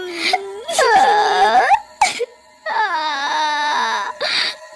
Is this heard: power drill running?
no